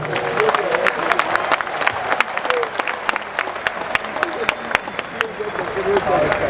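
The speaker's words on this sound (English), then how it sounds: "Those of you who are already in 2017, clap your hands." A comedy show crowd in Nnewi claps hands, with distinct sharp individual claps popping over a busy, uneven wash of applause and crowd murmur, fairly close and lively throughout.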